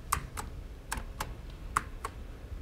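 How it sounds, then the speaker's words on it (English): Keys on a Macintosh computer keyboard are struck in a loose, uneven run of about six crisp clicks, close and fairly loud, with no speech over them. "let me just type this in on this lovely keyboard here"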